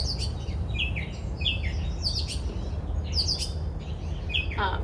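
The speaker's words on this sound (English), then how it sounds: "ignoring the noise from my bird friends or enjoying it if that's so soothing for you" Several small birds chirp and tweet outdoors in repeated high, quick bursts over a steady low background hum, fairly close and continuous throughout.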